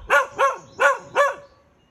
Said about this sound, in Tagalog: Mga aso pa oh.